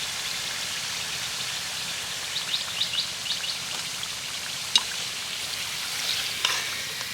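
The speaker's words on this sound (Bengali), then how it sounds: "বাকি পিঠেগুলোও একই রকম করে ভেজে নেব" Palm gokul pitha frying in hot oil, a steady soft crackle and sizzle with occasional sharper pops, fairly close and uninterrupted by talk.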